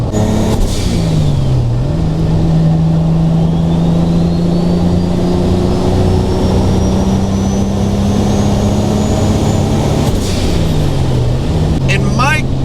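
Toyota Supra with a freshly built R154 transmission and new clutch, its engine droning loudly and steadily while driving, pitch sagging and rising with gear changes and revs, close and continuous for the whole stretch.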